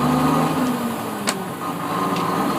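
A truck engine with an Eaton Fuller Roadranger transmission runs steadily at idle, a close, even mid-pitched drone with a faint low hum throughout and one brief click partway.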